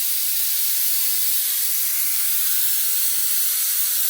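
Steady, loud hiss of steam escaping from a pressure cooker on the stove while boiling ingredients for a chicken curry with tapioca, a continuous broadband rush with no pauses and no voices.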